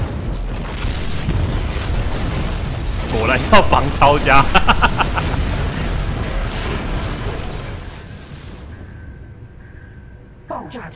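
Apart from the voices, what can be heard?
explosions in the video game StarCraft II: Heart of the Swarm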